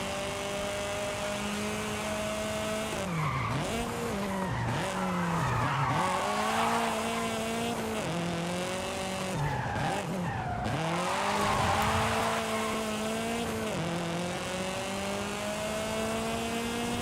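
An all-wheel-drive car drifting in Forza Horizon 5, its tires squealing in repeated long skids over a steady droning engine note that dips and rises with each slide, loud and close throughout.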